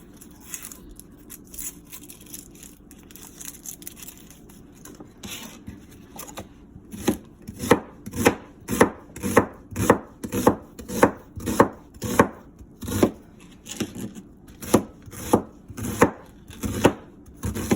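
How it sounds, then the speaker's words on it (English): A knife chops a large onion on a board: after a quiet start, a brisk run of sharp, close, regular cuts, roughly two per second, continuing to the end. "now I'm cutting up an onion"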